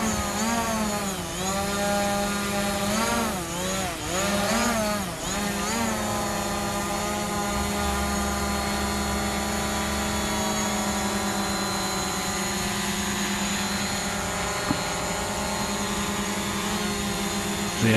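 A DJI Mavic Pro drone fitted with Master Airscrew propellers hovers close by, its steady high-pitched whine holding nearly constant, with a brief wavering in pitch early on, and no talking.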